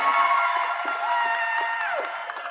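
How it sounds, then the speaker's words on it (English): Audience at a graduation ceremony claps and cheers for a graduate, scattered applause under high, sustained whoops and shouts from the crowd. "please give her a round of applause"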